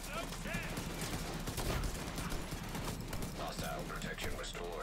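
Pistol fire from a Division 2 pistol build, repeated shots crackling in a dense, busy firefight mix with game effects throughout.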